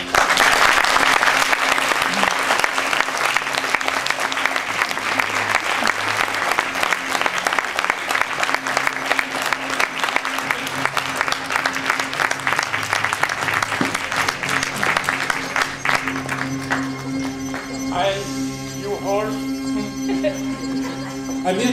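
Loud applause from a conference audience at a PMI France Sud communication event, dense clapping that gradually thins toward the end, where music and tonal sounds begin to come in under the fading hands.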